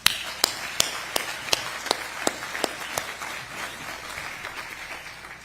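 A small crowd claps for county commissioners at a Netflix studio groundbreaking, sparse, distinct claps ringing out at a steady pace over a low outdoor murmur, thinning out toward the end.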